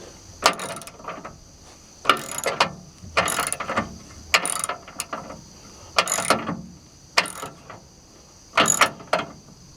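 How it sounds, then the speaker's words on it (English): Ratchet wrench clicking as a bolt stacked with washers is tightened on a one-ton truck chassis, heard in repeated close bursts of rapid ratcheting separated by short pauses. "We got enough washers on there that we can just keep tightening it down until there ain't nothing left."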